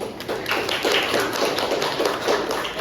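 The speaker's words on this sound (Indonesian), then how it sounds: "Ini tepuk tangan." Steady applause from a group, many hands clapping quickly and densely throughout, fairly close and even in loudness.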